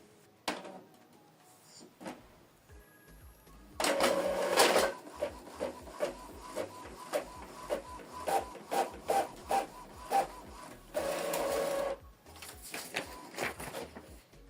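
An Epson EcoTank ET-2876 inkjet printer prints a test page from a laptop over USB. Soft whirring and rubbing mechanism sounds come in bursts, broken by short rhythmic clicks and longer feeding passes, with no talk.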